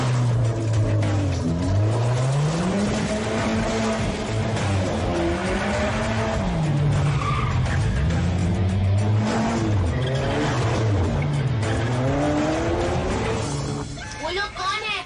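A car swerves hard during a chase scene in a Hindi-dubbed Robot movie, its tires squealing and skidding over a loud, continuous engine roar, with voices and dramatic music layered on top.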